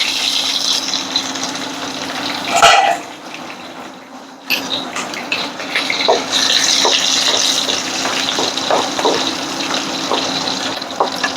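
A kitchen tap runs water while cooking is underway, a steady close rush that breaks off briefly near the start and then resumes with clinking of dishes and utensils beneath it.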